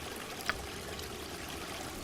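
A babbling brook in the Baldur's Gate game world trickles as a soft, steady ambient flow of running water, with one small splash briefly standing out.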